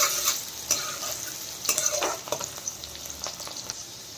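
Onions fry in refined oil for a palak aloo dum masala, a steady close sizzle broken by the clatter and scrape of stirring against the pan, with no voices.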